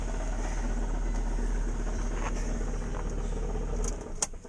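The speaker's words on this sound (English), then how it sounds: "You hear that noise? The bearing is shot on the alternator." A Volvo S70 engine with a failing alternator bearing runs close up, giving a steady idling drone with a whining, grinding undertone, and then quiets near the end with a couple of sharp clicks.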